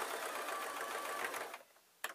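A sewing machine runs a rapid, steady stitching whirr close by as it goes back over a fabric seam on a string bag, then stops abruptly, followed by a brief click.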